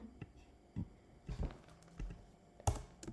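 Scattered keystrokes and clicks on a computer keyboard while a Scratch chatbot program is written. The taps are close, irregular and fairly soft, with short pauses between small clusters and no speech.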